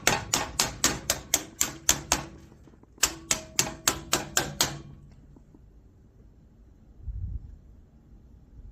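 A rubber hammer taps HVAC sheet metal during fabrication in a steady run of sharp, close, evenly spaced strikes, about ten, then a short pause and another quick series of six or seven, followed by quiet and a dull low thump.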